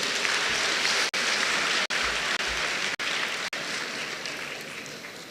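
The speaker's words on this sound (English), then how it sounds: "please, a round of applause for them" An audience applauds the winning school at a senior high school renewable energy challenge grand finale: a dense, steady wash of clapping that carries on for several seconds with a few abrupt brief cutouts, then fades slightly toward the end.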